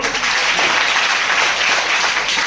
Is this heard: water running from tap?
no